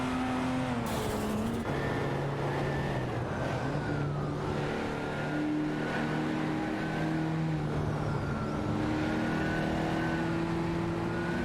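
Racing cars in a video game roar and whine continuously, several engine tones rising and shifting as they accelerate and run close together, loud and unbroken throughout.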